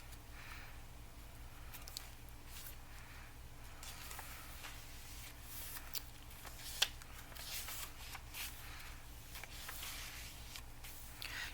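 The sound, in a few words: paper journal pages being flipped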